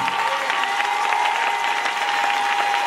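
A church congregation applauds and cheers for Jesus during a Sunday worship service, a steady, dense wash of clapping with crowd noise that holds evenly at close range throughout.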